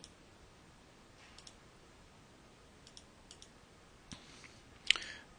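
Quiet, sparse computer mouse clicks come through as a few isolated light ticks spread over several seconds, with one sharper click near the end and no voices.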